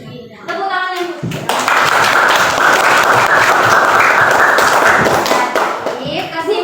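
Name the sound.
classroom applause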